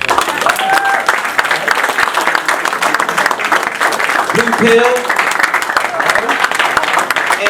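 An audience at a lecture event claps for the speakers, lively applause running throughout while a voice calls out over it near the start and a brief tonal sound cuts in midway.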